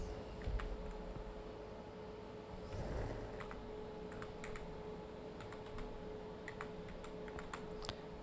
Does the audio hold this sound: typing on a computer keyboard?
yes